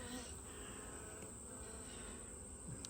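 Honeybees hum in a continuous, even drone from an opened hive during an inspection, a faint steady buzz with no talking.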